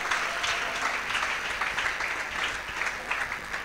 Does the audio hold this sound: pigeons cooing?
no